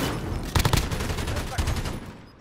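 Rapid bursts of video game weapon fire sound close and loud. Clustered shots come in quick volleys with a second burst about a second later over a dense background of game noise.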